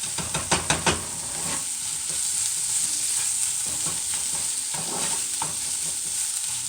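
Garlic sizzles and fries in a pan. A few quick scrapes of stirring come at the start, and a steady hiss runs underneath, with a few more scrapes later on.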